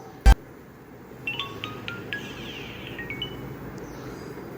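A 4G smartwatch powers on with a sharp click followed by a soft, faint run of bright startup tones over quiet room hiss.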